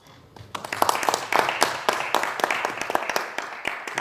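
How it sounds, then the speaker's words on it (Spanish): An indoor audience applauds a singer-songwriter at a talk event, many sharp hand claps that start sparse, quickly swell into steady applause and hold through the end. "para el cual les pido un aplauso"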